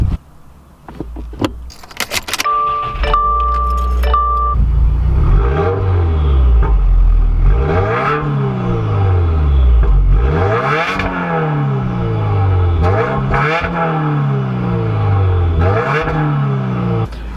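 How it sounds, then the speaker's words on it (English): A 2017 Subaru WRX starts with a brief jangle of keys and clatter. Its engine then revs loudly and climbs through repeated rising, falling sweeps of acceleration, close and continuous. "I think we both just want me to drive this car already"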